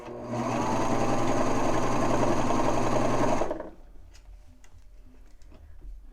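A serger sewing machine stitches a banded T-shirt neckline in a loud, steady, close mechanical whir that lasts about three seconds and then stops, leaving faint handling clicks and rustles.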